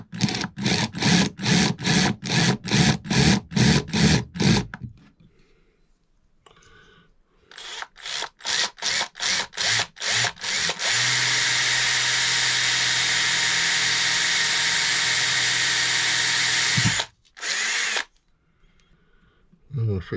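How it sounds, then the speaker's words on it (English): A power drill bores a hole in a homemade light stand for filming in tunnels. A run of rhythmic rasping strokes comes first, then a sustained, close motor whine lasts several seconds and stops abruptly, followed by a brief second burst. "I'm just drilling a hole in this"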